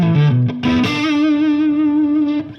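A blues lick on a distorted electric guitar with effects: a quick run of picked notes climbing into a long, sustained bent note with wide vibrato, loud and close with no voices.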